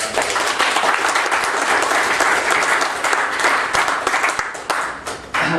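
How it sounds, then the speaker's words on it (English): Loud, close applause from a large conference audience, continuous clapping that holds steady and then starts to thin out near the end. "I think he deserves a round of applause for his hard efforts and work."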